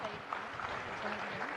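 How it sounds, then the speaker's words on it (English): An audience at a Gita gathering in Tirupati claps for people who memorized the Bhagavad Gita, a brief burst of steady mixed clapping with faint voices underneath. "So we can applaud for them."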